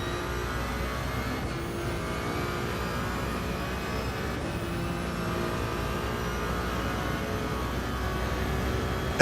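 Ferrari 499P hypercar engine in a racing game, a sustained high-revving drone at steady loud volume with gear shifts, no talking.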